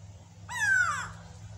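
A grey go-away bird gives a single loud, nasal, descending call lasting about half a second, close by, over a low steady background hum.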